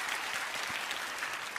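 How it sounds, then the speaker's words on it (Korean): A church congregation at a Sunday service claps warmly together, a dense, even wash of applause at moderate distance. "우리 격려로 박수 한번 해주시면 너무 감사하겠습니다"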